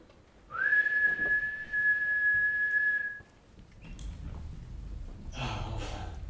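A clear, sustained steady whistle meant to wake a snoring grandfather, holding one pitch for about two and a half seconds, followed by soft breathing, a snort and rustling movement nearby.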